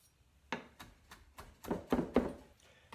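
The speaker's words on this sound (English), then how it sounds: "Now we'll cut up the parsley." A knife chops fresh garden parsley for Italian meatballs, giving about eight soft, quiet taps at a steady, unhurried pace with no talking.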